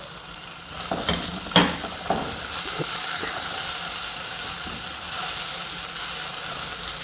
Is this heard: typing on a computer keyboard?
no